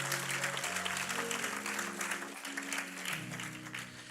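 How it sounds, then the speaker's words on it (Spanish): Congregation applauding in church at a 25th pastoral anniversary service, a steady wash of clapping held throughout while sustained keyboard chords play underneath. "Can you give him a clap offering?"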